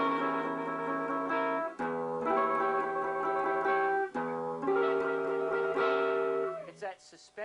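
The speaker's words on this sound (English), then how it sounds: "so I'll explain to you a minute what a diminished chord sounds like." A diminished chord rings out on guitar several times in a tense, suspenseful pattern, each strum sustaining with clear, close tones before short breaks.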